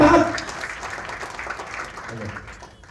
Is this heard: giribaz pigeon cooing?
no